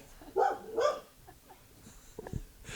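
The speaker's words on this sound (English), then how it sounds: "Gonna rile the dogs up even more." Dogs bark in two loud bursts near the start, followed by quieter shuffling, soft whimpers and a faint thump, with no talking.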